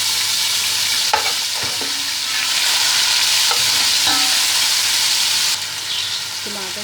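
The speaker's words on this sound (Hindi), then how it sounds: "अदरक लहसुन डालेंगे हम" Ginger garlic paste sizzles and fries in a pan for fish biryani, giving a loud, steady, close hiss broken by occasional scraping stirs.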